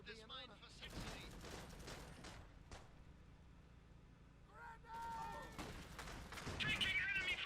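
Gunfire in the dieselpunk strategy game Iron Harvest, scattered shots and bursts crackling intermittently amid battle noise, with brief radio-style voice lines in between and a louder flurry of fire toward the end.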